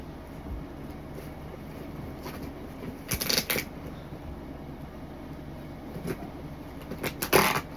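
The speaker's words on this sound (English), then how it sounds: "Trying to open it with some scissors at this point." Scissors cut through heavy packing tape sealed around a shipping box, giving a few short rasping snips near 3 seconds and again near 7.5 seconds over quiet room noise.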